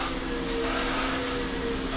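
A vacuum cleaner runs steadily and fairly loud in a garage as someone cleans a car, a continuous whining motor drone with a constant tone across the whole moment.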